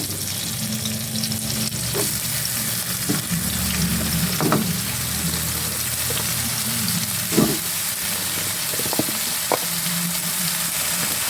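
Fern vegetables (paku) sizzle steadily in a hot pan. A continuous frying hiss runs throughout, with a few brief clinks and stirring scrapes and no talking.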